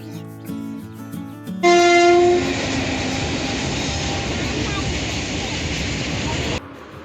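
A train passes close by, its loud horn blaring for a moment before a long, steady rumble and rush of the cars fills several seconds and then cuts off abruptly.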